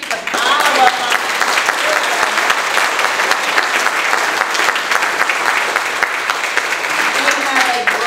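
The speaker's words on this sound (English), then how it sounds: "so the church can give you a round of applause" A church congregation applauds the Kids Zone helpers at a Sunday service, a dense, steady round of clapping that fills the whole stretch at close range, with cheers and voices mixed through it.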